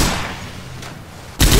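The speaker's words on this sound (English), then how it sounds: "Stop shooting me, please" Gunfire in the zombie shooter Left 4 Dead 2, with a steady roar of shots or noise and one sudden loud burst near the end, with no talking.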